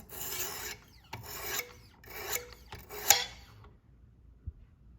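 A knife is sharpened on coarse Wicked Edge Gen 3 Pro stones, with about four quiet, rasping grinding strokes in an even rhythm, each a short scrape close by, then a soft tap as it stops.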